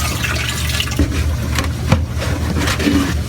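RO water pours steadily into an aquarium sump, a loud, continuous splashing rush with small gurgles and glugs throughout, close by and with no voices.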